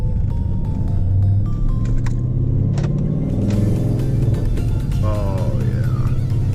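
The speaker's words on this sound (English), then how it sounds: "we are done with the exhaust, and let me tell you, oh my god, it's louder." Ford Mustang engine fitted with an SLP resonator and muffler-delete exhaust rumbles steadily and loudly up close, with a deep continuous drone and a brief rise in revs partway through.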